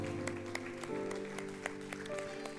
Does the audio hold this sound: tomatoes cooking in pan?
no